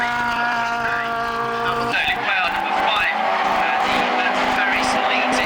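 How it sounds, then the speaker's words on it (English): Several race cars spin off the track, with engine howl dropping suddenly into scrabbling, skidding tyre noise partway through, all close and loud, while a voice talks over the action. "we've got 3, 4, 5 cars all spinning off"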